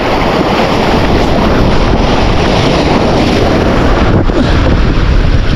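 Strong sea waves pound a small motor boat far out on open water, a loud, continuous roar of surf and rushing wind that fills the whole stretch with no break.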